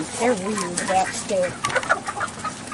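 Orpington hens cluck and warble close by on a farm, their short pitched calls rising and falling throughout, with someone talking over them.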